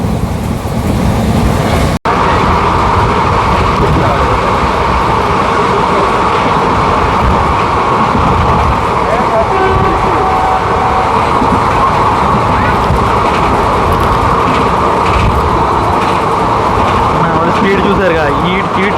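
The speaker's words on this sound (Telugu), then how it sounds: "ఇప్పుడు క్రాస్ చేసిన ట్రైన్ అయితే MGR Chennai central Coimbatore Kovai super fast express" Kovai Superfast Express from Chennai Central to Coimbatore rushing past at high speed, a loud continuous roar of wheels and rushing air close by, with voices faintly under the noise.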